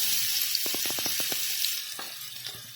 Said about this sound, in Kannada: ಇದು ಅದ್ರೊಳಗೆ ನಾನು ಸಣ್ಣಗೆ ಹೆಚ್ಕೊಂಡಿದ್ದು ಈರುಳ್ಳಿ ಹಾಕ್ಕೊತೀನಿ